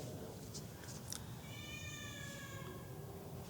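A cat lets out a few short meows with wavering tones over steady background noise, close by and fairly faint.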